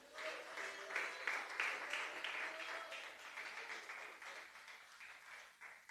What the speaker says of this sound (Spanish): Ese aplauso no es para el Señor